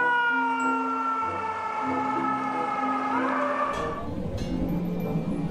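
Toy fire engine siren, a steady electronic wail with clear pitched tones that bends and shifts partway through, loud and close with no talking over it.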